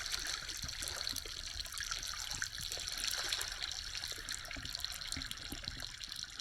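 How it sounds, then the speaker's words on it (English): Bubbles escaping from melting glacier ice, recorded underwater: a dense, steady fizz of crackling pops and trickling bursts that runs evenly throughout, with no voices. "This is the sound of bubbles escaping from a melting glacier."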